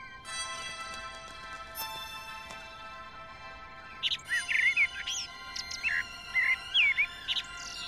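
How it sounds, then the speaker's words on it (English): A blackbird sings in the city of Prague, with clear, fluting phrases and chirps that come in bursts during the second half over steady background hum and tonal noise. "This blackbird has been living in Prague for at least 5 years."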